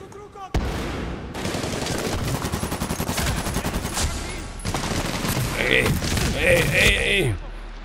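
Bursts of automatic gunfire rattle through a Medal of Honor: Warfighter firefight, rapid rhythmic volleys with heavy booms and a few sharp single shots, close and loud, while someone talks over the action.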